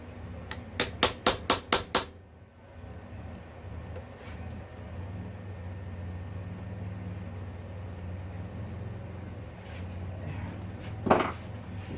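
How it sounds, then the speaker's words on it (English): A quick series of about six sharp metallic taps drives an extractor tool on an extension onto a broken spark plug in a four-stroke motocross dirt bike, then low hum and a later faint clank. "slide it on here, put it on an extension, and just tap it in on top of the spark plug"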